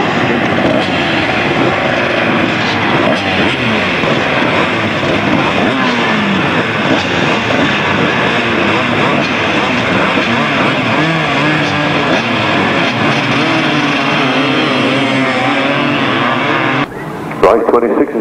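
Grasstrack motorcycle race engines at a 1996 meeting in Frittenden roar in a loud, continuous, dense wall of noise, with commentary over the top and an abrupt change just before the end.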